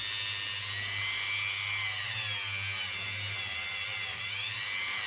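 A Dremel rotary tool with a fine abrasive attachment buffs fire scale off a British 50p coin being made into a ring, a steady high-pitched whine running close and continuous throughout.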